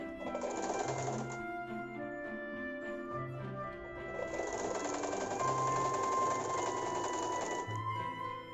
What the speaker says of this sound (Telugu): పైన కొంచెం ఓపెన్ సైడ్ ఉండే చోట ఇలా మడిచేసి కుట్టేస్తున్నాను